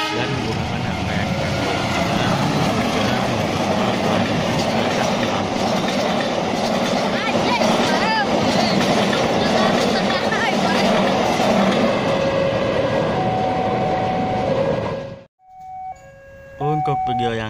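Turangga passenger train hauled by a CC204 locomotive rumbles past close by in a loud, continuous roar with wheel clatter, then cuts off abruptly near the end as a brief horn-like tone sounds.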